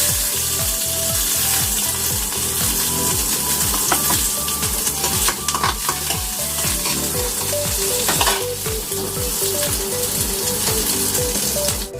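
Chopped onion sizzles in a pan after garlic, the start of a tuna-and-vegetable dish, with a loud continuous frying crackle and occasional stirring scrapes against a rhythmic low thumping.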